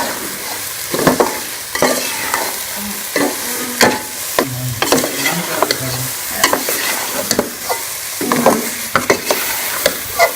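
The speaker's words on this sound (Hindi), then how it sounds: "घी अलग होने तक मैं इसको अच्छी तरह से भून लूँगी।" Grated carrot halwa roasting in desi ghee, loud close frying sizzle with frequent clanking spoon stirs in an irregular rhythm, no voices.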